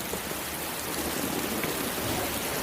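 Steady rain falls throughout, a dense even hiss of drops on surfaces with no talk over it.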